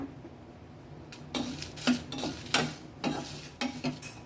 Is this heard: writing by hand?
no